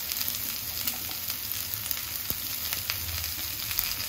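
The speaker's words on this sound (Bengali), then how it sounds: "ভেজে নিতে হবে, ভালো করে ভেজে দিয়ে তারপরে জল দিতে হবে।" Food frying in a pan, a soft, continuous sizzle with faint crackles and a few light clicks throughout, heard alone without talk.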